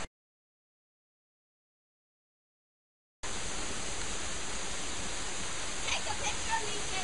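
Waterfall at a swimming hole in Cockscomb Basin, a steady broadband rush of falling water that starts abruptly partway through after silence and continues loud and unbroken to the end.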